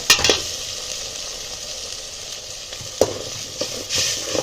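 Chopped onion frying with green masala paste in a pan, a steady close sizzle broken by a few sharp scraping stirs of a spoon, with no talking.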